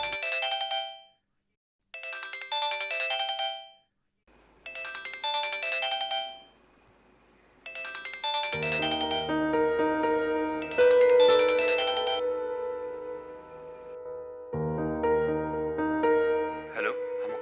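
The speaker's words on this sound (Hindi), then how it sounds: "कब से कॉल्स कर रहा हूँ तुम्हें, फोन क्यों नहीं उठा रही थी" A mobile phone rings with an incoming call, its melodic ringtone repeating in bursts separated by short silences before turning into a fuller, continuous tune, loud and close with no voices over it.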